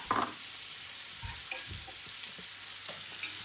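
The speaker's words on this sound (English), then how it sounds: "So give your onions this little stir around." Salted onions frying in a pan for a Moroccan dish, a quiet, even sizzle with a few soft spoon scrapes and knocks as they are stirred around.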